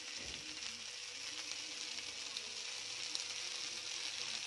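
Thuthuvalai leaves and grated coconut sauté in a pan for chutney, a faint, even sizzling hiss that continues throughout with a soft scrape near the start, and no talking.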